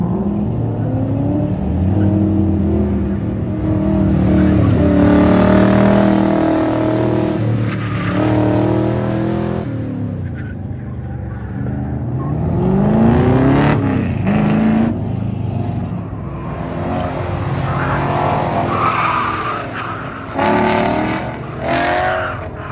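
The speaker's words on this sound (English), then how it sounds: "That Mustang's coming back." Ford Mustang race car at an autocross event, its engine rising and falling as it drives fast around the course, loud and fairly close, with pitch sweeps as it accelerates and passes.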